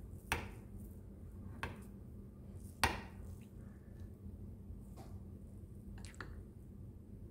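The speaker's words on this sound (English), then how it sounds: "Let's just cut into it now." Knife cutting into soft, slightly undercooked baked honey custard, giving a few quiet scattered squishy taps and clinks against a faint background, with no voices.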